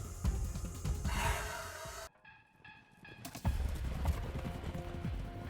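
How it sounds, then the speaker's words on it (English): Wild mustangs move over the ground, their hooves making a busy, fairly close clip-clop that drops out briefly midway and then resumes at full density. "Now there are the mustangs, or wild horses, the symbol of the American Wild West."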